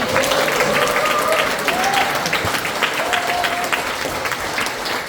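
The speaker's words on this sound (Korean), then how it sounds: "우리 백종원 국회의원님께 국민을 위한 더 많은 입법 해달라고 의미에서 더 큰 박수 한번 부탁드리겠습니다" An audience in a small National Assembly meeting room applauds a member of the assembly at an anniversary event, a sustained round of dense clapping with a few voices rising briefly through it.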